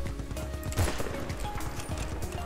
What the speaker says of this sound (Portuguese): Na hora que eu atiro, o tiro pega.